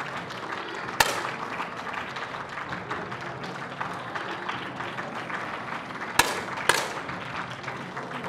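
Audience shouts and applause at a shooting World Cup stage in Changwon, a steady wash of clapping and cheering throughout with a few sharp claps or bangs standing out near the start and end.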